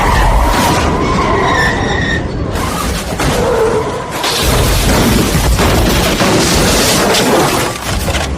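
A truck careening off balance and crashing, a loud sound effect of sustained skidding roar with booming impacts and shattering debris, dense and continuous throughout.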